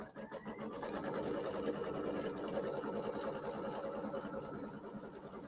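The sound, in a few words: sewing machine sewing out a tack down line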